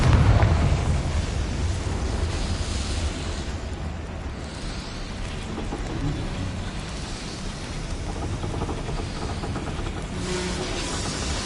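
A Confringo explosion spell in Hogwarts Legacy bursts with a heavy rumbling blast, followed by a sustained crackling, roaring wash of debris and effects that stays loud throughout.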